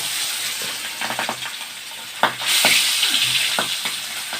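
Fish pieces dropped into hot oil for a fish curry, sizzling and crackling steadily close up, with a sharp burst of spattering as they hit the pan and a continuous hiss afterward.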